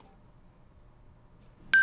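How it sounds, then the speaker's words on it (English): A Sena motorcycle headset gives a single short electronic beep as its phone button is pressed, arriving abruptly at the very end after near silence and faint room hum. "we're going to do is hit the phone button until you hear phone pairing"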